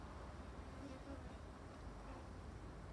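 Buckfast-descended honeybees swarm around an opened hive, a dense, steady buzzing hum close by with no gaps, faint and even throughout.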